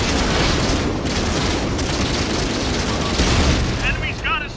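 Type 95 Ha-Go light tank firing its cannon in a video game, a broad blast rumbling under dense battle noise with a voice speaking over it.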